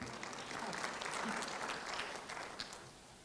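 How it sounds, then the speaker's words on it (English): An audience at a Pan African youth convention in Kenya claps in a steady, moderately distant wash of applause that fades slightly toward the end. "That's where you clap."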